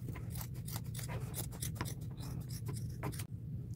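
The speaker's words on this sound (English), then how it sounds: "Now I want to cut the collar off." Scissors snip through the thick denim collar of a jean jacket in a quick series of close, crisp cuts. The scraping snips are fairly quiet, and no one talks.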